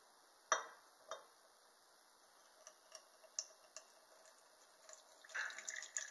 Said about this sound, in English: I'll decant off the liquid as much as I can